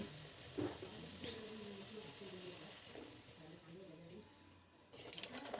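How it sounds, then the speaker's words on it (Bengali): Luchi, puffed flatbread, fry in hot oil, with a soft continuous sizzle and occasional stirring clatter. The sound stays fairly quiet and close, and a brief louder burst of bubbling comes near the end. "নাড়াচাড়া করে লুচিগুলোকে এবার ভেজে নিচ্ছি।"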